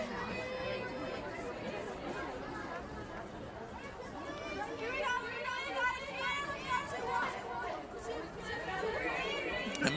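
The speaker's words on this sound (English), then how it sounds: "you hear their cheer and chatter, which in this game happens to be the home team" Softball players cheer and chatter near the Patriots dugout at an ACEL championship game, a close, steady babble of many voices with shouted calls running through the whole stretch.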